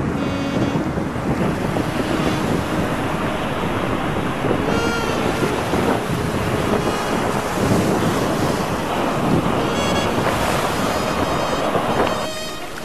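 Sea waves crash and surge below a high stone fortress wall of the old town in Budva, Montenegro, a loud continuous roar of surf mixed with heavy wind buffeting the microphone throughout.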